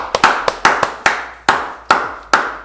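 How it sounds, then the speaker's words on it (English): About a dozen close, loud hand claps in an uneven rhythm over under three seconds, with no voices. "Clap. Come on, baby."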